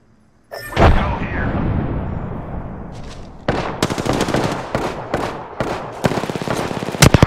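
Frag grenade tossed during Apex Legends gameplay, a thump and rumbling blast followed by rapid bursts of gunfire in a loud, busy game mix.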